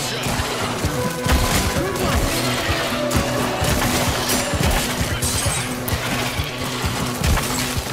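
Gunfire in the VR shooter After The Fall, repeated sharp cracks and impacts scattered over busy game noise at a steady, dense pace with no talking.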